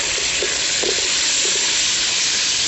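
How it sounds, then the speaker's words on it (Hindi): Onion and garlic sizzle steadily in a pan after a splash of water, a loud continuous hiss with faint crackles, no talking. "अब यहाँ पे हम इसमें थोड़ा सा पानी डालेंगे ताकि हमारा प्याज और लहसुन जो है वो जले ना।"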